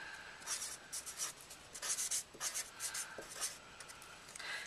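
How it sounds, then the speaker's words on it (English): Pen writing by hand on a paper flyer, a steady series of quick scratchy strokes with short pauses between words, close up and fairly quiet, with no talking. "I would usually write neater than this"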